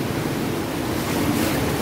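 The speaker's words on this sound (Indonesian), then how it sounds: "ini gua laut yang berada di salah satu pantai di pesisir selatan Kebumen" Sea waves surge and wash inside a sea cave on a beach along the south coast of Kebumen, a dense, continuous roar of surf with wind buffeting the microphone, steady throughout with no voices.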